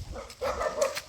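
A dog barks once or twice outdoors in a village, short sharp barks at moderate distance over quiet background noise.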